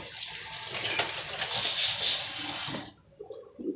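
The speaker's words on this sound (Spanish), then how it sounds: "Le vamos a poner 1/2 taza de vinagre." Half to a quarter cup of vinegar pours in a steady, close splashing stream that ends abruptly near the close, during turkey preparation for Thanksgiving.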